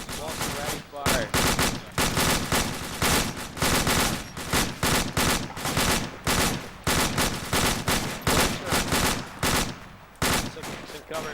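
Dense, loud gunfire during a fireteam drill, with rapid bursts and repeated shots hammering almost continuously for the whole stretch, close and sharp, with brief gaps between volleys.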